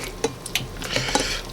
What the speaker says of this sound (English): We're going to just give it a good stir